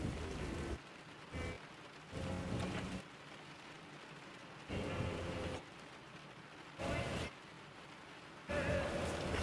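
Steady rain hissing on surfaces, with louder bursts of downpour coming and going every couple of seconds; no voices.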